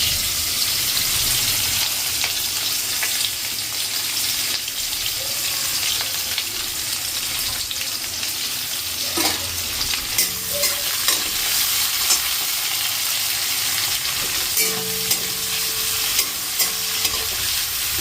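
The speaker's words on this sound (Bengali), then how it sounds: "পেঁয়াজ আর শুকনো লঙ্কাটা ভালো করে ভাজা হয়ে গেছে" Onions and dried red chilies sizzle and crackle steadily in hot oil with whole cumin seeds, with occasional stirring scrapes and clinks from a utensil in the pan.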